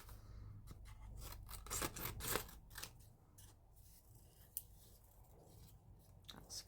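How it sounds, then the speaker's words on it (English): Scissors snip repeatedly at close range through material for a mixed media craft piece, a burst of quick crisp cuts in the middle followed by sparser single snips. "These are not the right scissors for fuzzy cutting"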